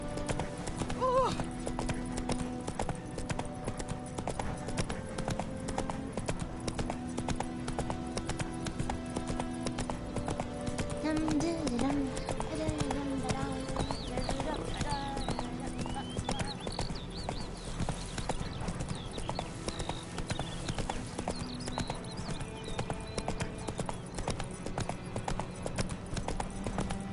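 Roach, the horse in The Witcher 3, gallops with steady, rapid clip-clopping hooves that run the whole stretch, set against game music and a few brief voice lines.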